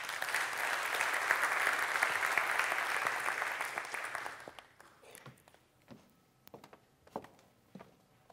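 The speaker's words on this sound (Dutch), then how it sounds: "Mag ik een applaus?" Conference audience applauding Laura van den Heuvel at a public academy event on child poverty in Friesland, a dense round of clapping that holds steady for about four seconds, then fades to scattered claps and room noise.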